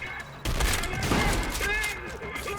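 Gunfire in a brutal indie shooter video game erupts after a brief pause into a dense, loud barrage of overlapping shots and thuds, with game effects and voices mixed in.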